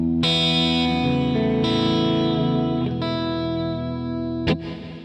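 Electric guitar played through a Headrush MX5 with reverb set to pre-delay, sustained distorted chords ringing out with a washy tail, changing every second or so, ending in a short struck hit, close and steady.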